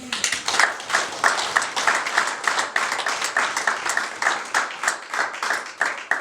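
A worship congregation at a church service claps in a fast, steady rhythm, a dense, continuous wash of many hands that stays even and fairly loud from start to finish.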